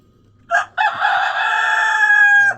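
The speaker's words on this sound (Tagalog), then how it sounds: "So ayan yung rooster natin." A white leghorn rooster crows loudly and close by, one long drawn-out cock-a-doodle-doo after a short lead-in call, with no talk.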